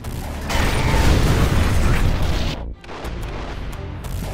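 Long-range artillery bombardment in the game C&C Generals Zero Hour, a heavy rumbling barrage of explosions that cuts off briefly, then sharp crackling bursts follow.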